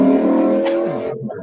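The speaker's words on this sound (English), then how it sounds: "Is that a motorcycle or a rice rocket? No, that's his truck." A loud truck engine revs nearby in a single sustained roar that fades out after about a second, with voices faintly mixed in.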